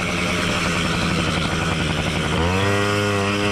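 A Motobécane AV88 moped engine on a motocross track buzzes steadily at high revs, then settles into a lower, even drone, loud and close with no talking.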